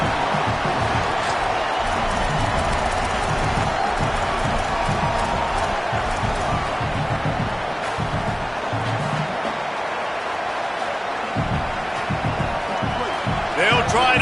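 Stadium crowd at a football game, a steady, dense roar of many voices that holds at an even level throughout, with a faint swell near the end.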